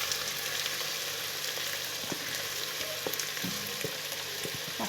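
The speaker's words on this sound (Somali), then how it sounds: "kuubi salaato si fiican u shiilanta markaas ayaa dhadhankiisa soo baxaya" Onions and okra frying in a pan: a steady close sizzle with scattered crackles and pops throughout, no voices.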